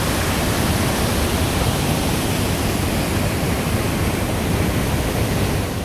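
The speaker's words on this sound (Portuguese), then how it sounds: "O diferente dessa cachoeira é que ela passa por dentro ali do da pedra, né?" A waterfall pours through a hole in a natural stone bridge, giving a dense, steady roar of rushing water that stays loud and unbroken throughout with no voices.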